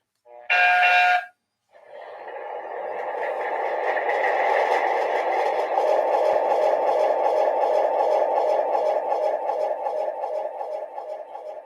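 Locomotive bell on a switcher engine: a short, loud tonal blast, then a long stretch of steady, rapid ringing that holds at an even level until the end.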